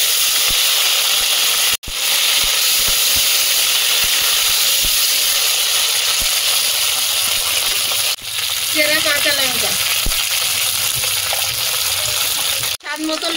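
A ground paste of ginger, cumin and green chilli sizzles in hot oil already holding dried red chillies, bay leaves and whole cumin. It makes a loud, continuous close hiss, with a brief voice partway through.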